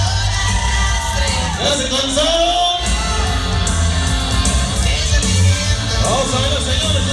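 A party crowd lets out loud Mexican shouts and yells at a quinceañera dance with booming sound-system music, the cries rising over the thumping beat.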